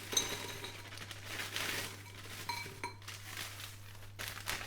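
A bowl clinks and knocks faintly among other crockery while being pulled out, small scattered contacts over a steady low hum.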